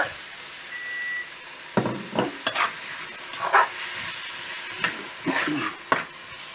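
Tomatoes and meat marinade frying in a hot pan for beef steak pepper fry, a steady sizzle under repeated clattering stirs and scrapes of a spoon, close and fairly loud.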